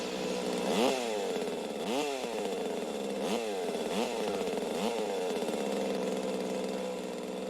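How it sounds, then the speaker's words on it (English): Chainsaw in a horror film fight scene from Motel Hell, a droning engine revving repeatedly in about six rising surges, loud and close with a buzzing, rasping tone. "ends up being a chainsaw versus chainsaw fight"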